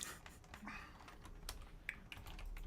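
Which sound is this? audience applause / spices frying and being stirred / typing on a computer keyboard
typing on a computer keyboard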